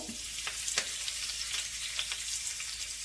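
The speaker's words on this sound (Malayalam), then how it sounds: "ചട്ടി ചൂടായിട്ടുണ്ട് അതിലേക്ക് വെളിച്ചെണ്ണ ഒഴിച്ചു ഞാൻ അപ്പോൾ അല്പം കറിവേപ്പില ഇടുന്നു" Curry leaves hiss and crackle in hot coconut oil, a steady close sizzle broken by a few sharp pops, with no talking.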